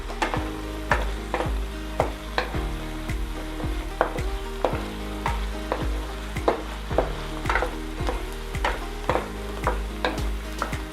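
Beef brisket sizzles and fries in a pan with marinade sauce, a dense, steady crackle with regular scraping strokes of a stirring utensil throughout.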